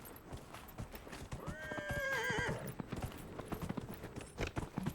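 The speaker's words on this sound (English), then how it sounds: "Wow, what a great horse." A horse neighs in a rising, wavering whinny in the video game Dragon Age: Inquisition, while steady hoofbeats clip-clop throughout, close and clear.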